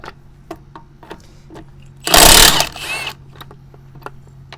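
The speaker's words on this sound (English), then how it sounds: "do wish this impact wrench would hold on to the sockets a little better" An impact wrench removes bolts in one loud, rattling burst of about half a second, followed by a shorter, quieter burst. Scattered metallic clicks and taps come before and after.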